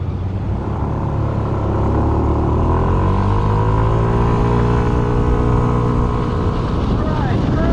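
Yamaha Smax scooter engine cruising steadily north on a highway at about 8,100 rpm and 65 mph, a loud continuous drone with rising and falling harmonic tones blended with heavy wind rush.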